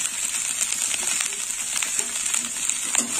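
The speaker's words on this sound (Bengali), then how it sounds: "ফুলটা এইভাবে কষিয়ে নিতে হবে" Drumstick flowers sauté in a pan for a tangy Bengali sour dish, giving a steady, soft sizzle with faint crackles and light scraping of stirring throughout.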